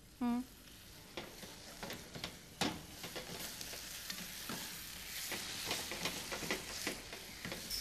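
Mushrooms and coriander sizzling in a pan over a high gas flame, a continuous close frying hiss broken by repeated stirring scrapes and taps, with a brief vocal sound at the start.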